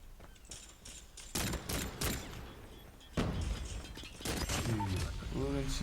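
Colt pistol gunfire rings out in a video game shootout: rapid, sharp shots and clattering mechanical clicks up close over a busy background, with a chirping electronic tone near the end.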